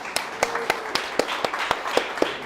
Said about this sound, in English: And let's clap the hands to Jens, please.